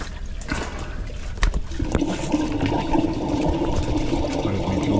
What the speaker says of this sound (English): You can even hear it flowing like a river.